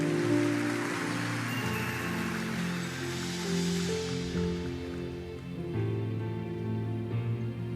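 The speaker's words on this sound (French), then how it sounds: "On ne pouvait pas terminer ces assises sans la pluie." Rain falls steadily at an outdoor gathering, a dense continuous patter underneath a held musical tone, fairly soft and unbroken throughout.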